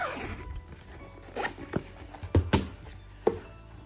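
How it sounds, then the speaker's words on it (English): A zipper on a Shure Aonic 40 headphone hard case is pulled in several short, scratchy strokes with small clicks between them, close by and fairly quiet. "And you have got a zipper."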